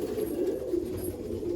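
Two young Malwai pigeons coo in a low, continuous murmuring drone, close and steady for a moment with no voices over it.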